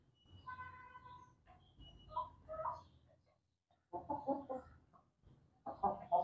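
Brahma chickens clucking softly while eating, with short scattered bursts of clucks and low murmurs close by, separated by quiet gaps.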